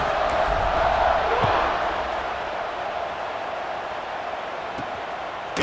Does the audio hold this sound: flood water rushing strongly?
no